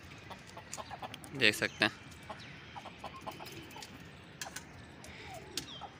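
Chickens cluck softly in a hen setup where roosters move among the birds, with a couple of louder clucks early on and scattered quieter ones after, close and low under a voice talking.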